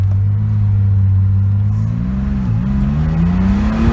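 A 1975 Porsche 911 S engine revving and accelerating, a loud, steady low drone close by that dips briefly and then climbs in pitch as the car pulls away, with no talk.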